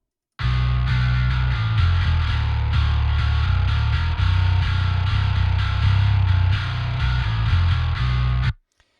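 Heavy, distorted bass track from a metal production in Logic Pro X, compressed and sidechained to the kick, played as a dense, loud riff with chugging low-end pulses and gritty upper fizz, continuous until an abrupt stop.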